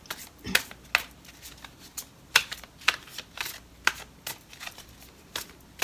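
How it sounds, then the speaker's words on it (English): Playing cards being shuffled, a series of crisp riffling bursts and soft flutters at irregular intervals, close and fairly quiet, with no talking. "I'm going to go ahead and shuffle these."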